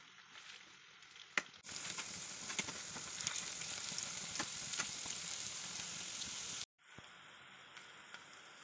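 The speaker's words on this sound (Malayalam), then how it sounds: "ഇപ്പോൾ നല്ലോണം ഫ്രൈ ചെയ്ത് വന്നിട്ടുണ്ട്" Cauliflower pieces fry in hot oil with a steady, dense sizzle and sharp crackles and pops, before the frying noise cuts off abruptly and a quieter hiss continues.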